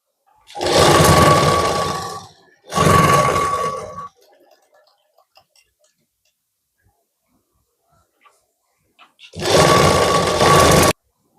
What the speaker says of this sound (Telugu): ఇప్పుడు ఇటువైపు కూడా అలానే ఒక కుట్టు వేసుకోవాలి, కార్నర్కి వేసుకోవాలి.